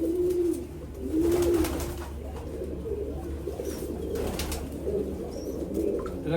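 A female pigeon of a high-flying nafta breed coos in soft repeated phrases, close by and moderately loud, with faint chirps in the background and no talking.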